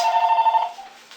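A telephone bell rings once, a bright sustained electronic ring close by that fades out after under a second, with no talk.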